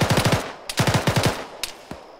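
Rapid automatic gunfire from the Arma 3 military video game comes in two close bursts of about four shots each, followed by a couple of single sharp shots, loud and with no talk.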